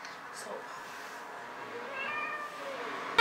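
A house cat meows a few times, soft and fairly close, in a quiet indoor room, ending with a brief sharp knock.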